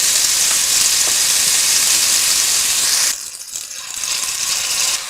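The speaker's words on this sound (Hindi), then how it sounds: "प्याज को हम 2 से 3 मिनट तक भून लेंगे" Onions, along with tomato and chilli, sizzle loudly in a pan of melted fat for a spicy brain masala, a dense steady hiss that drops sharply after about three seconds and then builds back.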